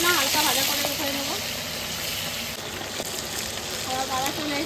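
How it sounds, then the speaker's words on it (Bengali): Fish frying in hot oil in a home kitchen, a close, continuous crackling sizzle with bright spattering, while a voice talks over it in places. "আর আমার মাছগুলো এরকম করেই ভেজে নেবো"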